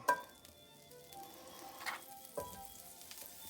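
Butter sizzles quietly in a pan for Mexican rice, a soft steady crackle with a few sharp clinks of a utensil against the pan near the start and midway; no one speaks.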